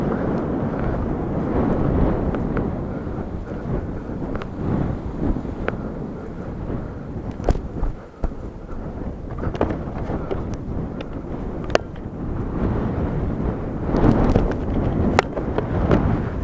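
Strong wind gusts buffet a hilltop with a continuous loud low roar, rising and falling in surges, with occasional rustles and knocks throughout and no talking.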